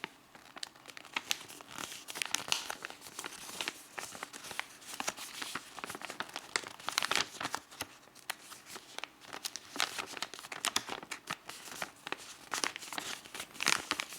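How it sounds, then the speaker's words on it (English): Origami paper being folded for a wolf or dog model crinkles and crackles close up in dense, irregular bursts, with sharp creasing snaps throughout. "And I fold this part inside as well."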